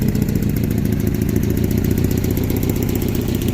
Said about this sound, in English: it definitely runs, and it sounds like it's idling okay now